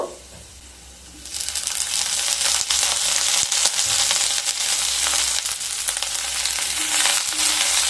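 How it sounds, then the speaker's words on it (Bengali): Garlic and onion frying in a pan, a quiet start that swells after a second into loud, steady sizzling with occasional stirring scrapes, close and with no talk. "দিয়ে রসুন আর পেঁয়াজকে খুব ভালোভাবে ভেজে নেব।"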